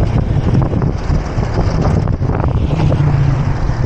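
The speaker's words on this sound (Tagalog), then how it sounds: "Lakas pa ng hangin." Loud, gusty wind roars into the microphone nonstop, a heavy low rumble with no voices, during a gravel cycling ride.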